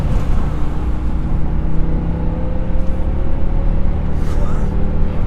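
A BMW M5 E60 with a V10 engine and a six-speed manual gearbox drives along a rough road, its steady engine drone and road rumble filling the cabin without pause.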